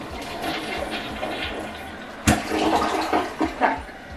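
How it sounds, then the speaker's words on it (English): A toilet in a single-wide mobile home with hard-water staining is flushed, giving a close gushing rush of water with a sharp surge midway and swirling, gurgling refill bursts toward the end. "I'm gonna flush this and then you're gonna see the ring."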